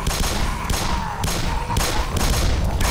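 Gunfire in the video game Black Mesa, loud, dense bursts of rapid shots packed close together, with a brief lull before the firing resumes.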